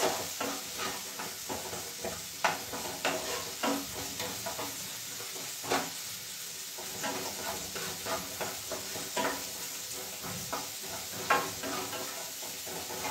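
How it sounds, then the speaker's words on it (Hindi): Soaked cashews and raisins are lightly sautéed in a pan, giving a soft steady sizzle broken by frequent scraping stirs and clinks from a utensil against the pan. "ये भी हम हल्का सॉटे करेंगे।"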